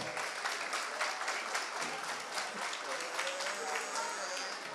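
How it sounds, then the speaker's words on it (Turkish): A crowd in a school hall at an eighth-grade graduation ceremony and iftar dinner applauds steadily and densely throughout, with voices mixed into the clapping. "Çocuklarımız için güçlü bir alkış rica ediyorum sizden."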